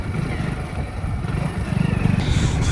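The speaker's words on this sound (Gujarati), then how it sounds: "તો હજુ બાઇક ચાલુ થયું નહીં." A motorcycle engine is being cranked and fails to start, giving a low, uneven mechanical churning that grows slightly louder and more pulsing toward the end. It is heard up close, with no talk.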